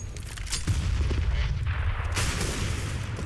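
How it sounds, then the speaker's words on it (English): A grenade explodes in Counter-Strike on the Train map during a DreamHack Masters match, a dull boom with scattered gunshots and game noise around it, moderately loud, with no talking over it. "It's a decent grenade going in there"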